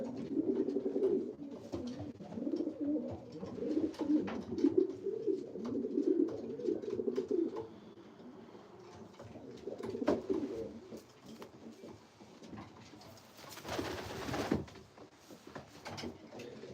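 Racing pigeons in a loft coo in low, rolling, overlapping warbles that rise and fall close by. A brief rattling bang near the end sounds like a door or trap.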